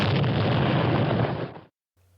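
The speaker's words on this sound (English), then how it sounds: "A loud explosion echoes through the night" A single loud, roaring blast that sustains for over a second and then cuts off abruptly into near silence.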